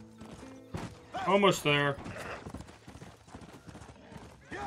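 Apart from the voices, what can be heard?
horse hooves in video game Red Dead Redemption: Undead Nightmare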